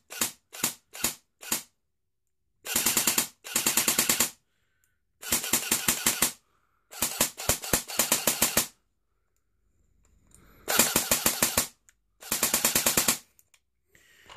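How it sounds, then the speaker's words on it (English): An Ares Amoeba AM-013 airsoft gun dry fires on battery power with an empty magazine, giving several short loud bursts of rapid mechanical clatter separated by brief pauses, starting with four single shots before longer automatic strings. "we're going to go ahead and hook it up and just dry fire right here for a second"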